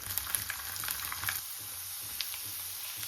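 Cumin, dried red chillies and garlic fry in hot oil for a tomato pickle. A steady, fairly quiet sizzle and crackle continues throughout, with scattered small pops and no speech.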